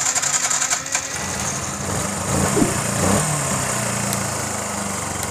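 A Yamaha FZ motorcycle fitted with a Pulsar carburetor runs steadily at a fast idle, a buzzy, even engine drone that holds close and constant for the whole stretch.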